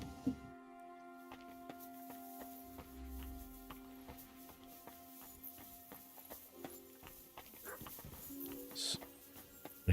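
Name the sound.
dog whimpering, from video game Kingdom Come Deliverance 2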